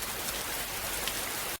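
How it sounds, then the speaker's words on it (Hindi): Light rain falling as a steady, soft hiss of drops that fills the clip evenly before cutting off abruptly. "कुछ दिनों बाद बारिश शुरू हुई और कई दिनों तक हल्की हल्की बारिश होती रही।"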